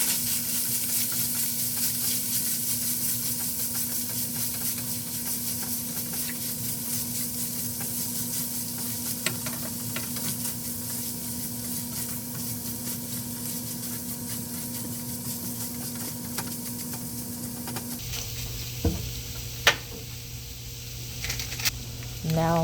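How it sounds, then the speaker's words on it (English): Caramelized onions and mushrooms sizzle with steak in a pan for a bunless Philly cheesesteak, a constant close frying hiss with a steady hum, then occasional clinks and a scrape near the end. "So remember the onions and mushrooms that was caramelized? Yep, we finna add them back to the pan"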